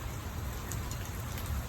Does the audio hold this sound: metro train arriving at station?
no